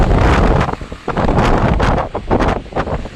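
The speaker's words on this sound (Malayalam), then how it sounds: "നല്ല കാറ്റാ ഇവിടെ, വല്ലാത്ത കാറ്റ്" Strong wind roars and buffets the microphone continuously at a hilltop viewpoint at Bodimettu, loud gusts rising and falling with no clear speech.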